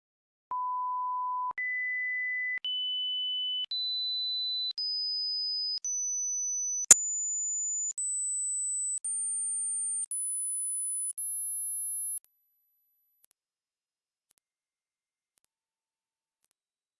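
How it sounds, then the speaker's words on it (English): A pure electronic hearing test tone steps upward in pitch about once a second, climbing from a mid whistle to a very high, thin squeal, with one sharp click partway. "there are frequencies that you may be able to hear, but those older than you cannot"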